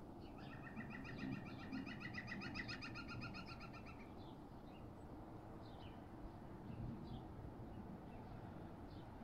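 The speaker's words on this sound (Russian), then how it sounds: "Ну, это же ворона." A crow calls from a larch outdoors, a series of faint, distant harsh caws in the first few seconds, then sparser calls over a steady low background hum.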